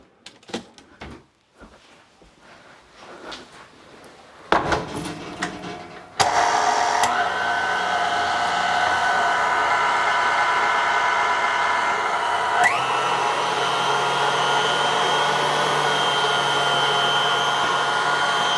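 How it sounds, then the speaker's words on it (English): Electric mixer whirs steadily through keto blueberry muffin batter, switching on with a loud close hum after some clattering and running without a break, its pitch shifting once partway through. "So I'm just going to give this a quick mix."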